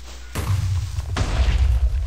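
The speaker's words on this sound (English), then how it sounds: "Ooh, nice little explosion." A 5k canister shot fired from a siege engine in Minecraft's Ancient Warfare mod bursts in two deep booming thuds, the second following about a second after the first, loud and rumbling without any talk.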